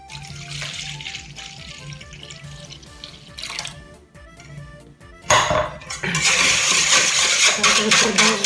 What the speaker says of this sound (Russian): добавляем молоко